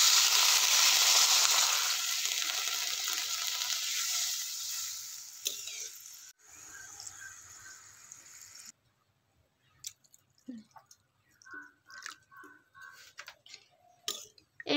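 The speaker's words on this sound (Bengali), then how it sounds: "এবার এর মধ্যে আমি দিয়ে দিচ্ছি জল।" Potatoes and spices frying in a pan sizzle loudly, and water is poured in. The hiss breaks up and quietens into sparse, soft bubbling and clicking.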